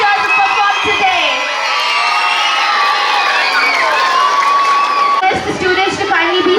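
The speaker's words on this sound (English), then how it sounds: "Let's give one big round of applause for all our teachers who performed today." A Children's Day school audience of students cheers, whoops and shouts for teachers who performed, a loud, continuous roar of young voices with scattered clapping.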